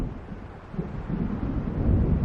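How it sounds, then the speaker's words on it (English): Thunder from an approaching storm in the video game Alan Wake rumbles low and steady, building slightly in loudness with a windy, wave-like wash behind it and no voices. "It seems there's a storm coming."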